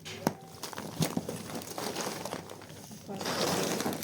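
A parcel packet of spices is torn open and crinkled by hand, with close crackling plastic, a few sharp rips and rustling that grows in the last second, while people talk softly nearby.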